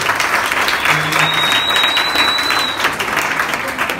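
A crowd applauds loudly and steadily for Piroteu, a longtime dance partner, the dense clapping running unbroken from start to finish with a faint whistle-like tone above it.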